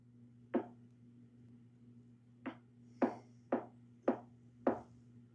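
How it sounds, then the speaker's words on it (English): Six sharp knocks inside a quiet house, irregularly spaced, each a short crisp rap with a brief ring, clear and moderately close over a steady low electrical hum, no voices. "Then I heard another knock or something like that."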